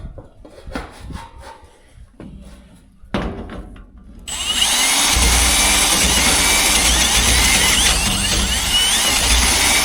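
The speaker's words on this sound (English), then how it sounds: "the sensor doesn't quite fit in there, so we gotta drill it some more" A power drill bores into a tank to widen a hole for a sensor, starting after a few quiet seconds of faint knocks, then a loud, continuous high-pitched whir that runs steadily to the end.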